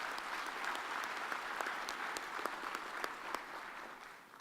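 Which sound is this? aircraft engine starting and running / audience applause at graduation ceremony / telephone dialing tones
audience applause at graduation ceremony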